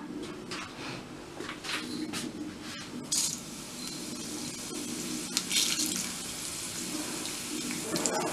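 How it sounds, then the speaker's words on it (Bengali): Panch phoron spices sputtering and crackling in hot oil in a pan while green apple pickle is made, a steady close hiss with scattered faint pops and clinks throughout. "পাঁচ ফোড়নটা এরকম যখন ফুটে উঠবে"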